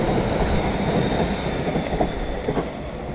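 A train passes through Seoul, its steady rumble and rolling wheel noise filling the scene close by, with faint clatter and a thin high squeal over the continuous roar.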